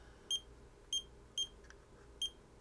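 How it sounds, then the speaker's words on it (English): A WUZHI WZ5005 250W 5A buck converter panel gives four short, high electronic beeps at uneven intervals, crisp and close over a faint background hum. "and also I don't like this beeper"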